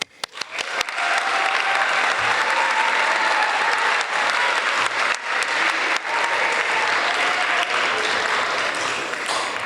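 An assembly audience in a school gym gives sustained, loud applause for the 2024 badminton team, the clapping starting abruptly and holding steady throughout.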